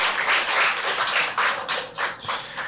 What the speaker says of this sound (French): Merci de l'applaudir encore très fort.